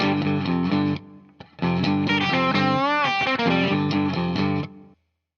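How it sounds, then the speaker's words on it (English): A distorted electric guitar plays the second, higher lick of the Kinks' "You Really Got Me" loud and up close, with a short pause near one second, then a wavering bend in the middle before it cuts off. "lick number 2 goes a little higher and sounds like this."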